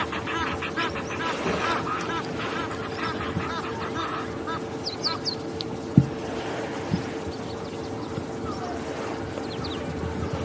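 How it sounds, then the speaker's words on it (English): Geese honk in the distance at a dam during a morning safari drive at Djuma Game Reserve, with scattered calls over a steady vehicle engine hum and a sharp knock midway. "I think that goose that came in didn't know what was waiting for it here."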